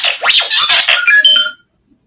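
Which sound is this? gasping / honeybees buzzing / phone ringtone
phone ringtone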